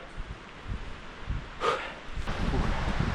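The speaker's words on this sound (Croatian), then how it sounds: "Vjetar nije prestao puhat od jutros." Wind gusts across a winter campsite in rain and snow, buffeting the microphone with low rumbling bursts that swell toward the end, and a brief rustling noise in the middle.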